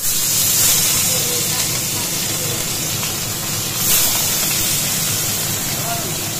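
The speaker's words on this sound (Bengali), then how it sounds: "এই যে এইদিকে এখন মাছটা ভেজে নিচ্ছি আমি" Katla fish frying in hot mustard oil, a steady, loud sizzling hiss that runs unbroken throughout, with a brief swell partway through.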